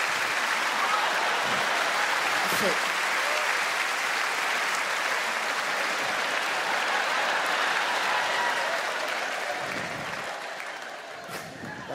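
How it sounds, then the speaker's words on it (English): Sustained applause fills a live comedy show, a broad, even roar of clapping from a large crowd that carries on for seconds before tapering off, with a brief spoken remark near the end. "Leave us a big round of applause for Jill"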